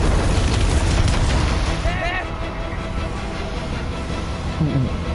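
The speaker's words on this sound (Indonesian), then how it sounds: "Meledak." A loud, deep booming explosion in the video game Marvel's Spider-Man on PS4, with rumbling low end that lingers over ongoing game sounds.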